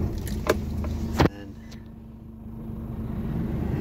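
A truck engine turns over at a wine-loading stop at a Champagne house in France: two sharp clunks, then a low, steady idle rumble that builds slightly and carries on close by.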